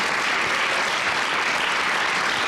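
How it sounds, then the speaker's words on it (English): A dense, steady round of applause from an audience of conservatives at a National Review Institute event in Chicago, loud and continuous throughout with no voices rising above it. "And how about a round of applause for David, who was outstanding."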